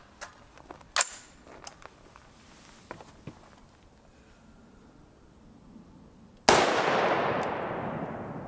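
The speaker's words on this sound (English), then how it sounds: "We'll shoot the TSX first, then the IMI out of the SBR." A single sharp rifle shot from an SBR firing a 50 grain TSX round into pineboard, preceded by faint handling clicks and clanks, then a loud crack with a long ringing decay outdoors.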